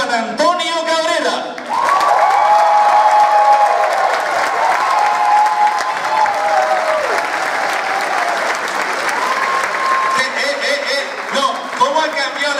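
A theater audience at a comedy show bursts into loud, sustained applause and clapping, with a few cheers and voices mixed in, before it tapers off and talk resumes.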